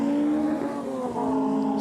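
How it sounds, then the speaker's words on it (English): A Lotus 340R race car drives on the Snetterton circuit, its engine droning at a steady, strong note with a slight pitch change as it passes at moderate distance. "such a unique car, that 340R. Very distinctive in appearance and very potent in performance"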